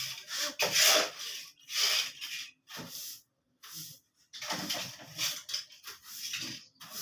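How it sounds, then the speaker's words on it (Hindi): A brush scrubs dirt out of a shop floor in repeated rough strokes with short pauses between them, close and fairly loud, no talking. "तो काफ़ी मिट्टी पड़ी है, ब्रश के साथ मैं निकाल रहा हूँ।"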